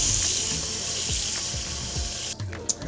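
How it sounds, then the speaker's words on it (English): Water pours into a slow cooker pot, a steady hiss of running water filling the vessel with faint clinks and knocks of handling, near and fairly loud, ending in a few small taps. "then we're just going to put water in here."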